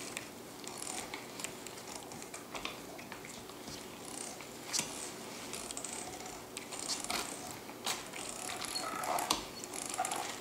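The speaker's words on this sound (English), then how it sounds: "make sure that you turn your handle only in a clockwise fashion" Handle of a Squeezo tomato strainer being cranked clockwise, a steady, fairly quiet mechanical whirring and ticking with scattered small clicks running throughout, no voices.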